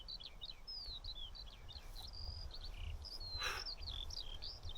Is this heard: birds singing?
yes